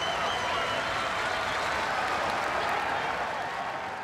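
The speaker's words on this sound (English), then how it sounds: "The crowd is excited" Tennis crowd at the 2004 World Tour Finals applauding in a large arena, a dense sustained wash of clapping and crowd noise that holds steady throughout, with a commentator's voice running underneath.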